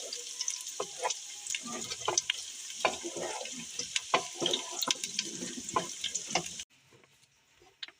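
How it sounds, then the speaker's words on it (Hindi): Macaroni stirred in a pan with chili sauce and soy sauce for chicken macaroni: steady, close scraping and wet sizzling clatter for about six and a half seconds, then a sudden drop to near quiet with one faint knock at the end. "अच्छे से मिक्स करेंगे"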